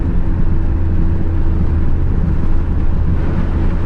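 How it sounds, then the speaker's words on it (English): A 1993 Chevy Silverado K3500 pickup with a 7.4L TBI engine running while driving, a loud, steady low engine drone with constant road noise and no talk. "Yeah, this truck is running nice."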